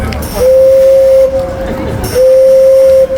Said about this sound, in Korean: 15분마다 증기를 뿜으며 소리를 내는 증기시계는 생각보다 소리가 하찮아서 웃음이 났습니다